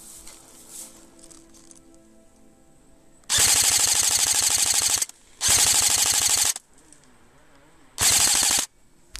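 Airsoft guns firing in bursts during a woodland airsoft game: three loud, close rapid-fire strings of rattling shots, each lasting one to two seconds, separated by quieter pauses with faint background sounds.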